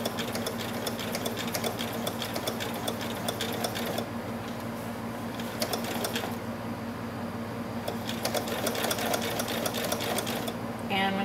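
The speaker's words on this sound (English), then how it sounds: "I want to stitch about an eighth of an inch from the edge of the felt." A sewing machine runs continuously, stitching through felt an eighth of an inch from the edge for an owl pillow, with a fast even whirring hum and brief pauses at the corners, close and clear.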